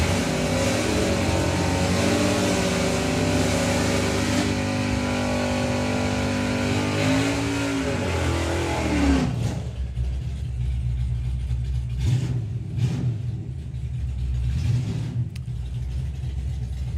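A Corvette drag racing at a nostalgia event roars loudly down the strip, its engine note climbing through gears before the sound drops away into a distant rumble with faint crowd noise.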